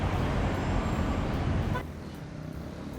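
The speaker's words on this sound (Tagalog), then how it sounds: "Maraming sasakyan." Steady road traffic on a roadway during a bike ride, many vehicles passing as a dense, continuous rumble that is loud at first, then eases to a quieter, more distant wash partway through.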